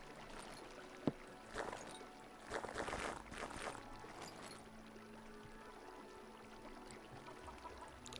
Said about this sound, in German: Super laut wieder wegen dem Wasser